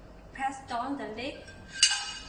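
The lid of a stainless steel pot is pressed down, giving a few close, bright metallic clinks and scrapes and a sharper clank near the end.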